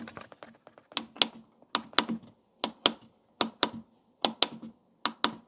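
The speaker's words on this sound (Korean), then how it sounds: "스테이션에 있는 버튼이 딸깍딸깍 이 눌리는 물리 버튼으로 바뀌었다는 거예요" Physical buttons on a robot vacuum's docking station are pressed repeatedly, giving a steady series of crisp, close clicks in small irregular clusters with no talking.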